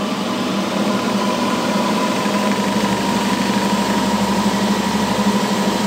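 A generator driven at 800 RPM and loaded with a light bulb drones with a steady, continuous mechanical hum, loud and unchanging throughout, with no voices.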